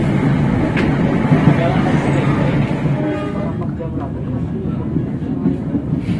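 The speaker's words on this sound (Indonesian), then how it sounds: "Masuk stasiun Gede Bage melambat." Train on a double-track line slowing as it enters Gede Bage station near Bandung, a loud continuous rumble with a brief horn toot near the start, heard from inside a business-class carriage with voices talking over it.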